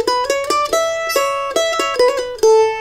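Solo mandolin picks the first-ending lick of a bluegrass tune as a brisk string of about a dozen ringing notes ending on a held tone, close and unaccompanied.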